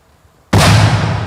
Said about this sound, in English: it sounded like freaking cannon going off. That's louder than the cannon.